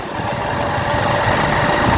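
A motorbike engine idles close by before a stunt ride, giving a steady, loud, low rumble with a constant buzzing hum and no talking over it.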